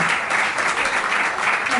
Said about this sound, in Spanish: Un fuertísimo aplauso.